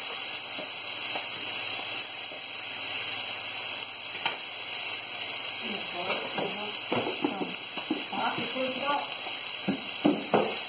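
Liver fillet fries in a pan with a steady close sizzle and crackle, with scattered stirring scrapes and clinks in the second half, heard alone.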